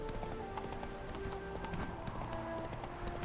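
A horse's hooves clopping at a steady gallop in a video game, with dense rhythmic hoofbeats running continuously at even volume under game ambience.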